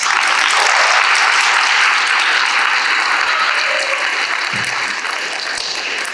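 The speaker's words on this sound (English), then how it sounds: "Let's give them a round of applause." Sustained applause from an audience at a Gear Up 2025 ceremony, steady and dense throughout, tapering slightly toward the end.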